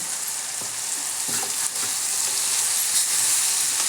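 Vegetables sizzling steadily in a hot pan as chopped spinach is tossed in, a constant close fry hiss with soft stirring scrapes and no talking.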